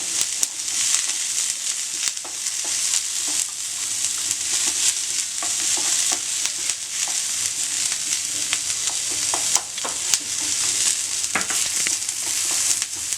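Onions sautéing over a medium flame in a pan, a steady close sizzle and crackle with occasional stirring clicks and scrapes throughout, no voices.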